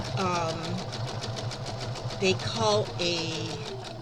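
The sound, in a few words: sewing machine stitching quilt blocks together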